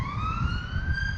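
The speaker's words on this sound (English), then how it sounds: "Sirens." A wailing siren rises slowly in pitch, loud and sustained over a low rumbling background, with no talking.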